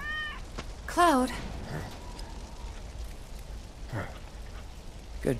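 A cat in Final Fantasy VII Remake gives a short meow in the rain, brief and fairly close over a steady patter of rainfall, with faint voices nearby.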